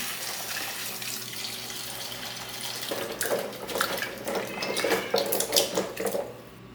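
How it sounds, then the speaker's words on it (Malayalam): Shallots are rinsed under a running kitchen tap, with water splashing and rushing louder midway through alongside light handling sounds, no voices. "ചെറിയ ഉള്ളി എല്ലാം നന്നാക്കി കഴിഞ്ഞു ഇനി അത് നല്ല പോലെ കഴുകിയെടുക്കാം"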